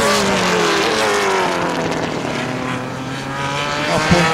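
Gran Turismo class race cars on the Circuito Panamá track roar loudly and close, engine pitches sliding up and down as they shift gears, with a sharp knock near the end.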